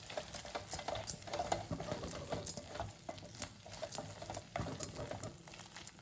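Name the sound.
stirring chili powder into Tamil kuzhambu curry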